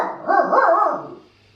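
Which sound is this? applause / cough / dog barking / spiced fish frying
dog barking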